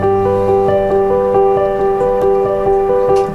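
Piano chords sound in steady succession, a progression stepping to a neighbouring chord and settling back on the home chord, each chord struck cleanly and ringing at a moderate, even loudness with no voices.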